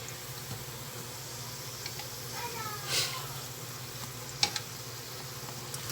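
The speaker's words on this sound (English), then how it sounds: "I'm going to finish frying up the rest of them" Chalupa bread frying in hot oil in a home kitchen, a faint steady sizzle and crackle running throughout, with a few brief clinks and taps of utensils.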